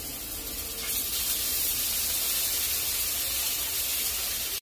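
Tomato sauce poured into a hot pan of potato curry, giving off a steady bright sizzling hiss that swells after the first second and holds loud until it cuts off.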